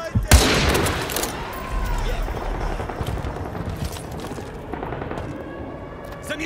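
Rapid automatic gunfire in the PC game Call of Duty Modern Warfare opens with a loud burst, then keeps crackling in close, repeated volleys, with voices heard beneath the shooting.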